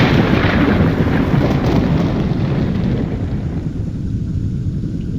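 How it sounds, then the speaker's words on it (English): Thunder from an ash storm in the video game Morrowind: Tribunal, set off by pulling a machine lever. It is a loud, dense, continuous rumble that dominates the sound and eases off slightly after about three seconds. "And it should send ash storms to Mornhold"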